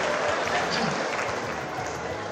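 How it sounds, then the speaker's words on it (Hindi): Audience clapping at a Hindi poetry recital of love songs, a dense, steady wash of hands that runs throughout with voices mixed in. "जोर से ताली बजाओ और खूब एंजॉय करो"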